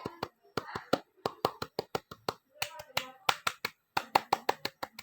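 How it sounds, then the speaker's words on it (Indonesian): Pramuka scout clap performed by a group of students, a rhythmic patterned sequence of sharp, crisp claps and snaps in quick bursts with short pauses, loud and close, over about five seconds. "3 kali tepuk pramuka"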